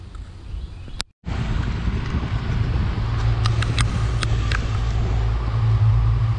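Strong wind at a boat launch on Mobile Bay rumbles against the microphone in a steady low roar, with a brief dropout near the start and a few faint clicks.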